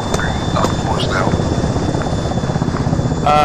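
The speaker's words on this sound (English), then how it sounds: "Say again, helicopter came over." Helicopter from the ArmA 3 video game, a loud, steady rotor thump and engine drone filling the whole stretch as it flies overhead, with voices over radio chatter on top.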